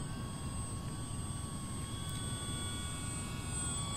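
An FMS PA-18 Super Cub electric RC model airplane with a 1,700 mm wingspan flies slowly with full flaps, giving a steady, even motor and propeller drone with thin whining tones. It holds at a constant level throughout.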